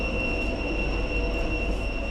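A train moves through a station in Newcastle, its wheels squealing in sustained high tones over a rumbling roll, loud and steady throughout with no voices.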